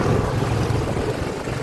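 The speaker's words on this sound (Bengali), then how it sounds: "আজকে আমরা যাচ্ছি বিটুলার রয়্যাল এনফিল্ড ক্লাসিক 350-তে।" Royal Enfield Classic 350 motorcycle engine on a monsoon ride in Kolkata, a steady low rumble blended with rushing wind noise, close and constant throughout.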